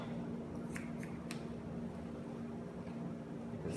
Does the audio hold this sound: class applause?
no